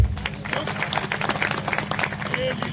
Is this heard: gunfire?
no